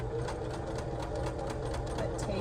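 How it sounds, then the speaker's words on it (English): Sewing machine stitching steadily across fabric and over the front seam allowances of a waistband, a continuous close mechanical whir with rapid even needle rhythm for the whole stretch. "So I'm gonna sew over that."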